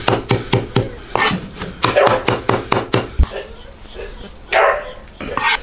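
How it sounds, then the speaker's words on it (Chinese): A cleaver chops green pickled chilies on a board in a rapid run of about a dozen sharp, close knocks, pausing briefly before a few more strikes. "咱们把绿色的泡椒啊剁一下"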